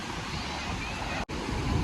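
Sea waves at a beach in Kozhikode, heard as a steady, broad roar of surf mixed with wind buffeting the microphone, with a brief dropout midway.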